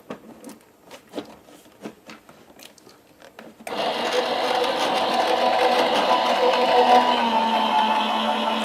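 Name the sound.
die-cutting machine pressing plates through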